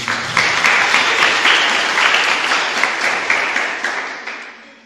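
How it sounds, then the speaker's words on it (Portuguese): A church congregation applauds after a scripture reading, a fairly loud wash of clapping with rhythmic pulses that fades out toward the end. "Vamos aplaudir a palavra de Deus"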